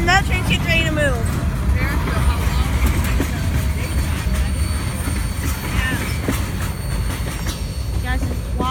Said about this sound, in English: As you see, the train is loud.